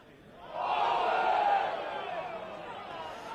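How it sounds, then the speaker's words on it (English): A rugby league crowd at a 1996 Bradford versus London match roars out in protest at a suspected forward pass, a swelling distant shout that peaks briefly then fades into background murmur. "there a big cry from the crowd for forward pass"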